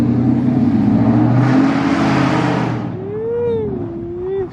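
A Ford Mustang coupe's engine revs loudly up close, a broad roar swelling through the middle of the clip and then easing off, while a high whistling whine glides across the last second and a half.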